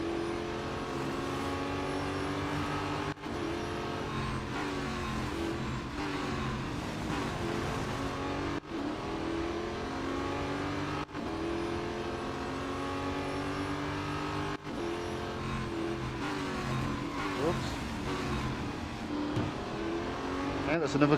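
Race car engines in Real Racing 3 scream through rising and falling gear changes, with rival cars nearby, loud and continuous for the whole stretch while someone talks over the racing.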